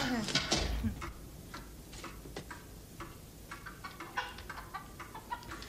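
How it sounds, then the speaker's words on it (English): A chicken clucks in a bank robbery scene, short clucks and ticks scattered throughout, heard under people talking after a loud burst at the start. "There's a chicken"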